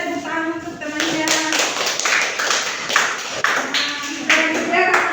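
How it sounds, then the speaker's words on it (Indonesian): A primary school class applauds a classmate, a close, lively burst of many children clapping in irregular rhythm, with faint voices mixed in. "tepuk tangan untuk temannya"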